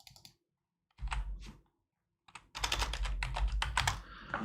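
Bursts of typing on a computer keyboard, close and fairly loud, with a short run of keystrokes followed by a pause and then a longer, denser stretch of rapid clicking.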